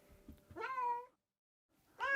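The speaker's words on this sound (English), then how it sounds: "Meow!" A cat meows twice at close range indoors, with two drawn-out tonal cries separated by a brief silence.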